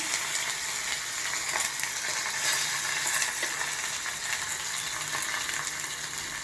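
Curry leaves frying in hot oil for Andhra-style gongura dal, a steady crackling sizzle that holds at an even level throughout, with no talking.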